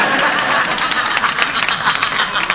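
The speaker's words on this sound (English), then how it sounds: "a little polite applause as I welcome the new kid on the block here" Polite applause from a game show audience, steady dense clapping filling the short stretch at a fairly loud level, with no talk over it.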